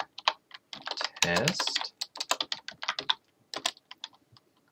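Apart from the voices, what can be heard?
typing on a computer keyboard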